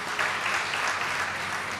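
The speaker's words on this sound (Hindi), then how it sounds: "अरे भाई तालियां तो बजा दो" A religious gathering at a Bhagwat Katha recital breaks into steady, dense applause from a crowd, a continuous patter of many hands clapping at moderate distance throughout.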